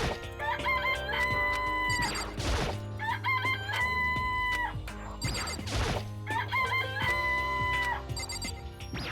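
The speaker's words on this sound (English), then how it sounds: "That's the rooster right there, or something." Chickens and a rooster in the Danganronpa: Trigger Happy Havoc game: repeated crowing phrases and clucks in a looping pattern, clear and fairly loud, with no voices over them.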